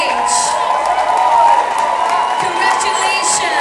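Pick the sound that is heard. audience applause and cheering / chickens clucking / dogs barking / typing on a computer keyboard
audience applause and cheering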